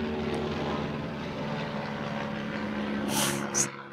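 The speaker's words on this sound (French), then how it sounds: "on va faire une pause hélicoptère" A helicopter flies overhead near the Stade de France, a steady rotor and engine drone that holds loud and even throughout, with a couple of brief sharp noises near the end.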